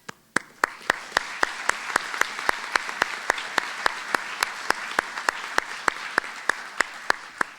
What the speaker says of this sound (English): we applaud you for it